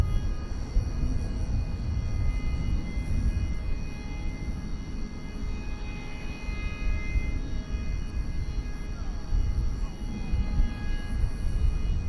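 A DHL cargo plane taxis at DFW Airport at night, giving off a low rumbling engine drone layered with thin whining tones, steady and fairly close throughout.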